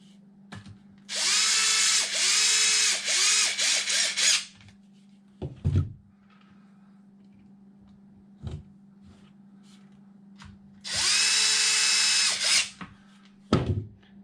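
A power drill drives side mount bolts into an Arrma Kraton monster RC truck: two loud, close bursts of whirring lasting about three seconds each, separated by quiet handling clicks and taps.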